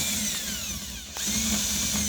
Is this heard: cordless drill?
yes